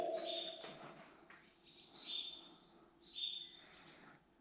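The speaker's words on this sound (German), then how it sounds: "Hier ist ein kleiner Vogel drin." Inside an abandoned Bundeswehr building, a small bird gives three separate high, sharp chirps spaced about a second apart, faint and somewhat echoing against a quiet background.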